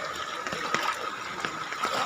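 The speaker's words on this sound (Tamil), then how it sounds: "கம்மாயிலிருந்து எவ்வளோ தண்ணி வருது ஊருக்குள்ள தண்ணி." Floodwater gushing from a village tank into the streets of Therkusilukkanpatti, Thoothukudi, a steady broad rushing wash of water with no voices over it.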